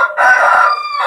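A rooster crows close by in one loud, drawn-out call lasting about a second.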